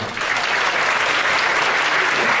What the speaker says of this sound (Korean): 두 분을 큰 박수로 받아주시기 바랍니다.